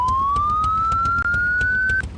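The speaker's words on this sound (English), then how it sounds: "This is a great police bike, except for the fact that its siren sounds really dumb." A police motorcycle siren in Farming Simulator 22, a single loud electronic tone rising steadily in pitch for about two seconds, accompanied by a rhythmic ticking pulse, then cutting off.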